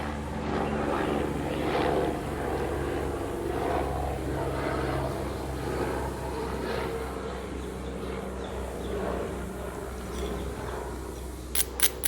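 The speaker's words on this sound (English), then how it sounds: "Now that, on the other hand, is a helicopter." A distant helicopter drones steadily overhead, its low engine hum and rotor rumble rising and fading slightly, with faint outdoor noise throughout.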